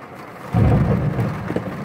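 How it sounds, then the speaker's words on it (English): A low rumbling wash of heavy rain on a van swells in and rolls on steadily, loud and broad. "Can you hear that rain? It's raining again."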